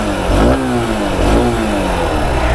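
Loud, close revving of a 2023 Honda Unicorn 160 OBD-2 motorcycle, two quick throttle blips rising in pitch, then settling back to a steady idle rumble, no voices.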